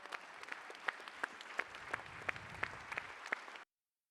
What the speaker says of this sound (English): shall we give her a wonderful applause